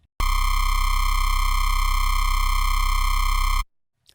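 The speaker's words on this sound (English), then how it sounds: "I put this oscillator B on the normal saw wave, but I pushed it up 3 octaves and I did some frequency modulating" A synthesizer oscillator plays a saw wave pushed up three octaves with frequency modulation, giving one loud, buzzy, rich-toned note that holds steady for about three and a half seconds, then cuts off abruptly.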